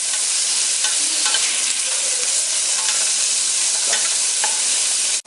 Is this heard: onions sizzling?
yes